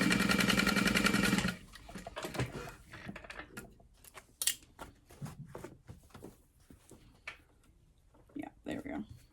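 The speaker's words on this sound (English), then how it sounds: "I'm just gonna top stitch or sew it together on that portion" A sewing machine top stitches a mini clutch wallet in a dense, rapid whirring run for over a second, then gives way to intermittent short stitching bursts and handling clicks while a person talks.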